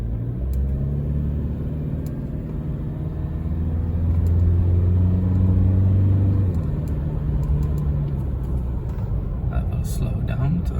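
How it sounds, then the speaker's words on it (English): A 2021 Toyota Hilux 4WD engine revs while driving, a steady low rumble that swells in the middle and then settles, heard from inside the cab with a person talking over it. "I will be able to rev it up for you a little bit."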